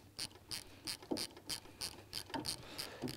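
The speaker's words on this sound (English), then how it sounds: "So you undo these bolts completely" Close, regular ratcheting clicks from a hand ratchet wrench undoing bolts on a Citroen DS21 engine, about ten evenly spaced bursts of metallic clicking in three seconds with no talk.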